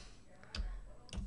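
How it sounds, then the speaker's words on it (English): Typing on a computer keyboard while entering an ID into FLDIGI, two faint soft keystroke clicks about half a second apart over quiet room noise. "Next thing we want to type in is TX with brackets."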